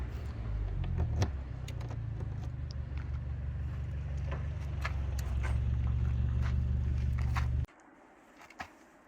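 An old Mercedes E-Class engine with a faulty exhaust idles with a rough, low rumble for several seconds, then cuts off abruptly, leaving a quiet background with a faint thump.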